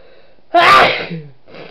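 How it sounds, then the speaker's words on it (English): A single loud, close sneeze bursts out after a brief quiet lead-in, with a sharp explosive onset and a trailing breathy exhale, followed by a faint sound near the end. "It's sneeze time."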